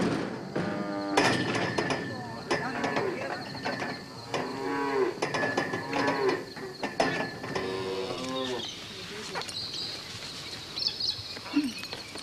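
Cattle on a remote outback station low and moo repeatedly, several long, throaty calls overlapping at moderate distance over an open outdoor background with occasional clicks and a faint bird.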